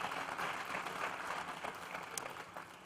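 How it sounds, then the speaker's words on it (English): An audience at a celebration-of-life event breaks into applause, a continuous wash of many hands clapping at moderate volume that thins slightly toward the end. "let's give them a round of applause"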